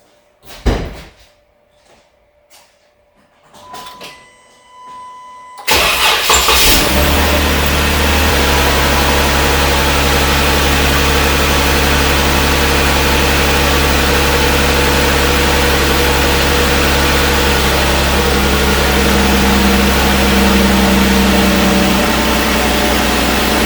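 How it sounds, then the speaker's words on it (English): A 2012 Jeep Wrangler engine cranks and catches after a few quiet clicks and a door thud, then settles into a steady, loud idle that drones on unchanged for the rest of the clip. "Now I'm going to start the car and then I'm going to check the voltage with the car running"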